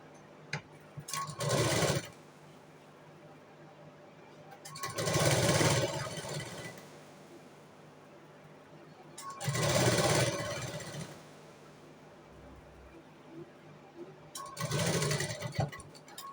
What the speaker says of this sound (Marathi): ह्याच्यावरती ही पट्टी आपल्याला आतमध्ये फोल्ड करून नंतर शिलाई मारून घ्यायची